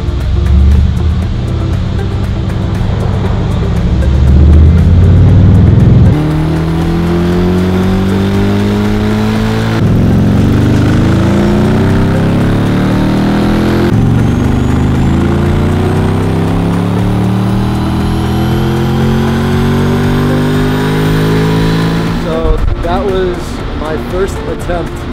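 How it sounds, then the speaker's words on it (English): Mercedes C63 Black Series V8 on a Dynojet dyno, loud and close, climbing through long revving pulls with rising engine tones, easing off between runs, under some talk. "Dynoing my own car with the dyno jet at CPA."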